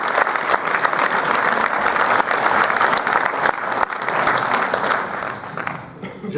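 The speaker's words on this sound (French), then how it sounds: "Je peux applaudir Madame Claire," Sustained applause from a municipal New Year's greetings audience in Sévérac, dense and steady throughout, thinning slightly at the very end.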